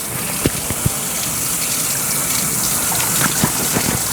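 A tap runs steadily while a dog is bathed, a loud continuous gush of water close by with a few light knocks and splashes.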